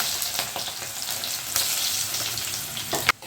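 Ginger and garlic fry in hot coconut oil, giving a steady close sizzle with occasional crackles and a sharper pop near the end. No one speaks.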